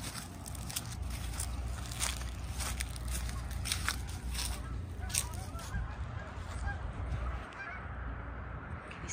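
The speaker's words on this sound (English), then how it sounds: "oh, do you hear the geese?" Geese honk repeatedly in the open air over a steady outdoor background, with calls scattered through the scene and fading somewhat toward the end.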